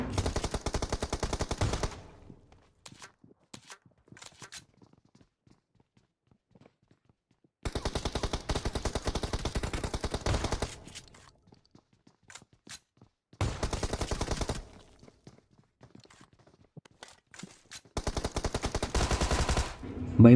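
Bursts of shotgun gunfire in the battle royale game BGMI come in four loud clusters of rapid shots, separated by quieter gaps with faint scattered sounds.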